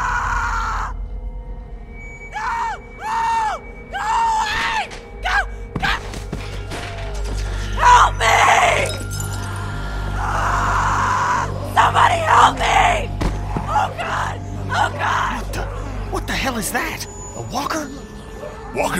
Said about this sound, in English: Walkers don't scream, do they?